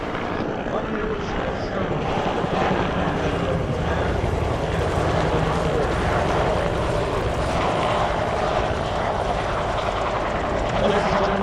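Cobra and Huey military helicopters land at an Army aviation display in a loud, unbroken roar of rotors and engines that fills the whole stretch, with a voice partly buried underneath.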